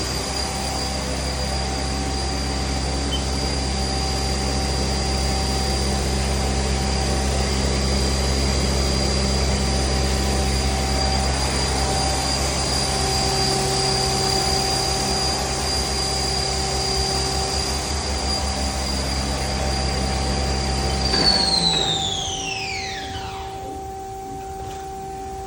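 A 2006 Haas GT-20 toolroom lathe's spindle runs unloaded at full speed near 4,000 RPM, giving a steady, loud whine with constant tones that holds for about twenty seconds, then winds down in a falling sweep as it stops.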